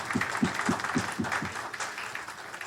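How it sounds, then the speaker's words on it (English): Applause from a conference audience for the office staff at a closing session, a broad steady wash of clapping with a few stronger rhythmic claps standing out, moderately loud throughout. "they really deserve a round of applause"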